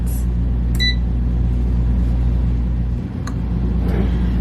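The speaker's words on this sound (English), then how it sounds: "this is a smaller air fryer" A small air fryer roasts Brussels sprouts, giving a steady low fan-and-motor hum that holds evenly throughout, with a couple of faint high beeps near the start.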